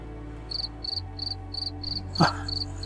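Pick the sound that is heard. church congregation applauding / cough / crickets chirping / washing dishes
crickets chirping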